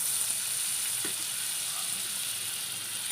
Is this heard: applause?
no